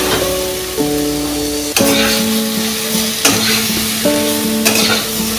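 Soya chunks and paneer sauté in a pan with a bright, constant sizzle, punctuated by several sharper bursts as the pieces are stirred, close up, with a faint steady tonal hum underneath.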